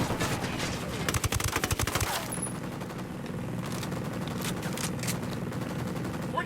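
Rapid bursts of automatic gunfire in the video game Ghost Recon Wildlands, loud, dense volleys over a couple of seconds, then scattered distant shots against steady battle noise.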